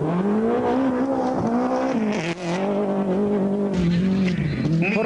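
A Toyota rally car drives a gravel Super Special stage at the 1989 Acropolis Rally, its engine holding a loud sustained rising and falling note with a brief dip, like passing close by.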